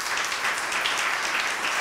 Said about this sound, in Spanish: Para todos ellos, un fuerte aplauso